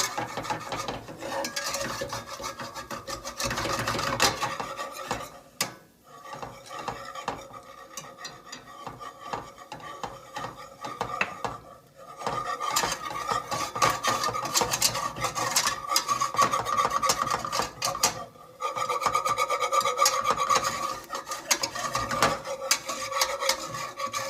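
A utensil scrapes and rubs steadily against a pan as flour is stirred into bacon drippings for a roux, a continuous rasping texture with short pauses, close and alone.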